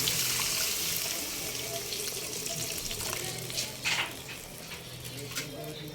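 Broth or water streams steadily into a pan of simmering home-cooked curry, a continuous close splashing pour with a light sizzle underneath throughout.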